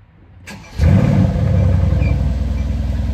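Mercedes-Benz car engine cold start: a starter whir leads into a sudden catch and a loud, steady, throaty idle that stays close and unbroken, with no voices.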